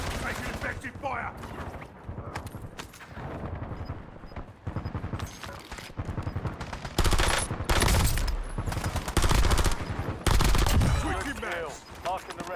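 Heavy gunfire in a shooter video game: loud, dense bursts of rapid shots and booming blasts that keep coming, with radio-style voice callouts over the din.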